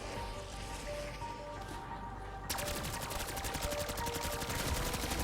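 Automatic gunfire from a KILO or AMAX rifle in a zombies video game breaks out halfway through as a rapid, steady stream of sharp shots, following a quieter stretch of game ambience.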